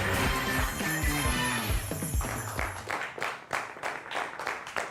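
Audience applause at a Hindi comedy poetry show: after a stretch of music, a crowd claps in uneven bursts that rise and fall across several seconds, moderately loud and close.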